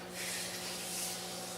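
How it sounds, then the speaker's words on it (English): Hand sanding of a wooden golf ball setter, careful around the edges, gives a steady, soft, even abrasive rub that runs unbroken and close by. "I'll do a little sanding on it"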